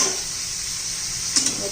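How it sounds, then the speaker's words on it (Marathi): Bell pepper (capsicum) sautéing in a pan for a quick village-style dry vegetable dish, giving a steady soft sizzle with a brief stirring scrape near the end. "एक चांगले 2-3 मिनिट आपण परतून घ्यायचं."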